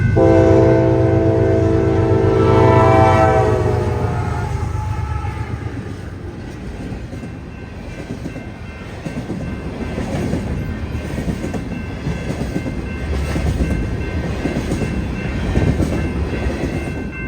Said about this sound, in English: an eastbound stack train clicking off their final miles to Alliance